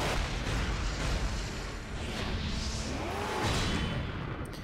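Booming, fireworks-like explosions rumble through Asura's Wrath, a dense, loud barrage of overlapping blasts and whooshes with no break.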